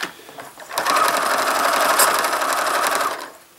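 A sewing machine runs steadily for about two and a half seconds, working bonded fleece on a bedroom table. The whir is close and loud, rising from quiet and trailing off at the end, with no talking.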